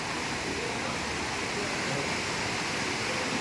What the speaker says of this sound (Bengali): এত বৃষ্টি হচ্ছে সারা দিন ধরে সারা রাত ধরে বৃষ্টি চলতেই থাকছে